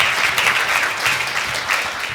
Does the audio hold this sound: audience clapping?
yes